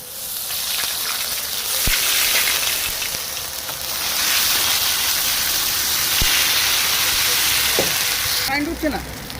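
Ginger paste and dried red chillies frying together in a pan, a loud steady sizzle and hiss filling the whole stretch, with a few sharp clicks of a spoon scraping and stirring.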